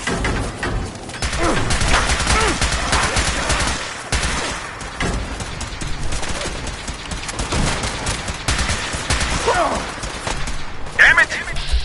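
Sustained gunfire in the Fallout video game, dense overlapping bursts of shots running through the whole stretch, loud and close, with shouting voices mixed in.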